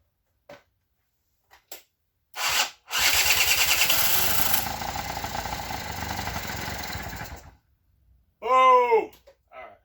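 Electric starter cranks a 1987 Honda Spree scooter engine, which catches and runs loud and close for about four seconds before cutting off, followed by a short burst of speech.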